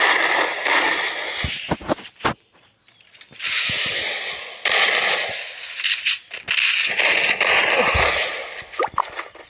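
Bombs go off in the Free Fire mobile battle game as a string of sharp, crackling blasts and bursts. Separate clusters of loud, close explosions come between short pauses.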